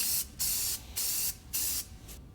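Gloss black spray paint laid onto a wire-brushed Ford 8.8 rear axle in four steady hissing bursts with short gaps between them, close and fairly loud, with no talking.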